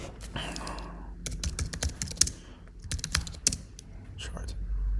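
Close, irregular bursts of keystrokes on a computer keyboard, quick clacking runs broken by short pauses, with faint quiet speech in the background.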